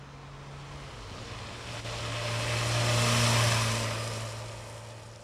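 A Honda middleweight sports bike engine revs hard, its tone climbing and swelling to a loud peak midway before easing off again, with no voices over it.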